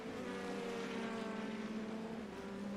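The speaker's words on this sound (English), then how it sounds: "You hear the engine really spiking in the revs as he tries to get the power down." Indy NXT race car engine in the iRacing video game at Laguna Seca, a steady, fairly faint droning whine with rising revs, heard alone without commentary.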